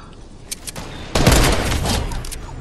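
Gunfire in Fortnite duo battle royale play: a few scattered shots, then a sudden loud burst of rapid automatic fire that keeps rattling on to the end.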